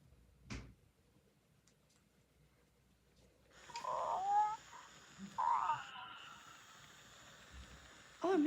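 A robot kitty toy lets out drawn-out, wheezy yawning sounds as it is petted quickly. There are two close, moderately loud yawns about a second apart, and a third sound starts just at the end.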